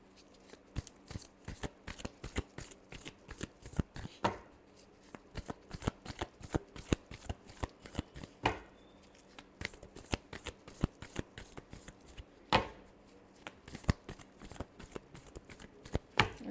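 Playing cards are shuffled over and over in a quiet room, a rapid riffling flutter of sharp paper clicks with short pauses and occasional louder snaps, close and alone.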